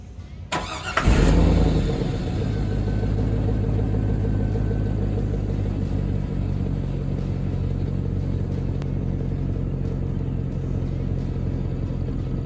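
A Chevrolet Tahoe engine cranks and catches with a sudden loud burst, then settles into a steady, deep rumbling idle that holds for the rest of the clip, close by with no talking.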